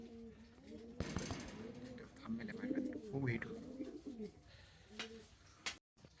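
Fancy pigeons coo nearby in a series of distinct, rolling, throaty calls that rise and fall. Shorter coos are spaced between them, with faint background noise and a brief cut near the end.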